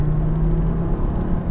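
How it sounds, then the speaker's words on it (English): The five-cylinder engine of a 2004 Volvo V70 hums in a close, steady low rumble as the car accelerates, with road and wind noise underneath and no talking. "I'm going to give it a little juice to see what this 5-cylinder has"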